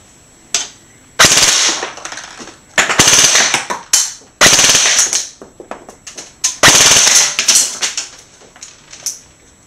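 An airsoft AEG with a Systema Magnum motor, M120 spring, helical gears and a 9.6 V battery rattles out several loud, rapid full-auto bursts, roughly 18 to 19 rounds per second, separated by brief pauses.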